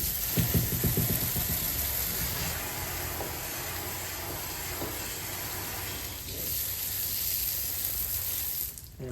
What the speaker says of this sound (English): We're going to rinse all this stuff off.